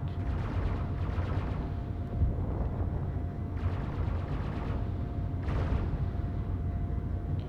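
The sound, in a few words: gunfire in video game Space Engineers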